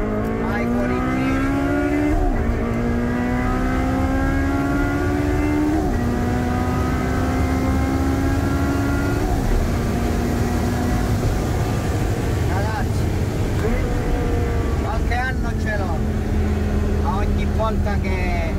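Ferrari 360 engine note rising through repeated gear pulls while driving, the pitch climbing and dropping with each shift, loud and close throughout, with someone talking over it.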